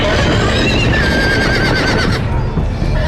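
Horses neigh and whinny loudly and continuously in a tense medieval battle scene from the Game of Thrones Telltale game, with a dense rumble of hooves and commotion underneath.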